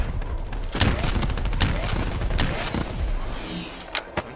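Gunfire in Black Ops 3 multiplayer with iron sights, several sharp separate shots ringing out at irregular intervals over a busy game background, the last two shots close and loud.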